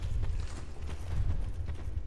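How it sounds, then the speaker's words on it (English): Horse hooves clip-clop in a video game, a steady close rhythm of hoofbeats over a low rumbling background, with no talking. "Horse."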